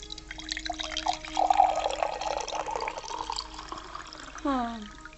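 Drinking water poured into a glass in a Hindi television drama scene, a bubbling, rising fill of liquid lasting a few seconds, followed by a brief tonal sound near the end.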